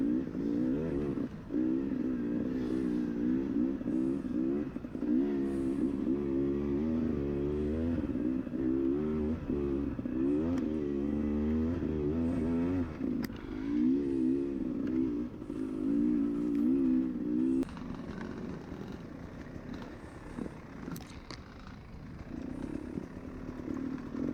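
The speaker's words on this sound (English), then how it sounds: "I'm riding a 2019 Beta 300 Race Edition" A 2019 Beta 300 Race Edition two-stroke dirt bike ridden on tight enduro race trail, its engine droning steadily and close, with constant rises and dips in revs, then easing to a lower, rougher note near the end.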